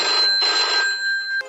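A telephone rings during a call in a domestic setting, a steady electronic ringing tone repeating through most of the short stretch before a brief click at the end, with no talking over it.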